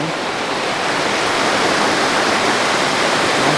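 A river rushes steadily in Glacier National Park, a dense, continuous roar of flowing water that stays loud and even throughout with no voices.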